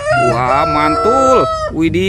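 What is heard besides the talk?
toy rooster crowing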